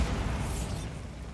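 A Bombarda explosion spell bursts in the Hogwarts Legacy video game, a loud, sustained blast with heavy low rumble and a brief bright crackle near the middle, no voice over it.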